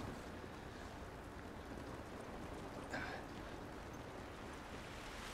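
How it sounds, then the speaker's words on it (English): Steady rain falling in The Last of Us Remastered, a faint, even hiss of drops throughout with one brief brighter splash near the middle, no voices. "It's raining."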